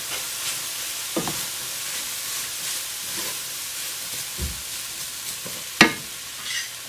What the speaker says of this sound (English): So the next thing that we're going to add in is our rice. I'm just going to give that a quick stir.